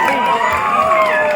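An audience at a prize-giving ceremony in Siddapur taluk applauds the Kodagina Bayalu team, a loud, dense burst of clapping mixed with cheering and shouts, close and sustained throughout.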